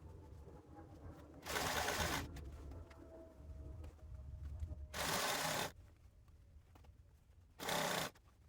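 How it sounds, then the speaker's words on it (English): A sewing machine stitches the hem of a woven t-shirt sleeve in three loud, even bursts of running, the longest about half a second to a second, separated by quiet pauses. Faint background hum sits between the bursts. "Next we'll hem both sleeves in the same way."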